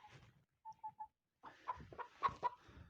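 An Indian breed rooster crows in a few short broken bursts, followed by louder clucking and crowing calls from hens close by, with no talking.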